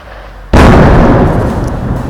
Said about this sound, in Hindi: कितनी नज़दीक ये धमाके हो रहे हैं और ये रुकने का नाम नहीं ले रहे हैं